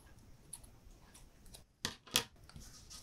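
A pair of close, crisp scissor snips trimming fabric webbing for a mask, two sharp cuts near the middle standing out from a quiet, faintly rustling background.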